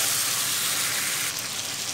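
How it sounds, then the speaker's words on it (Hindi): Tomatoes with turmeric and salt frying in a pan for aloo baingan, a loud, steady sizzle and hiss close by, with no talking. "और टमाटर को सॉफ्ट होने तक हम इसको भूनेंगे, हमारा टमाटर अच्छे से सॉफ्ट हो जाए"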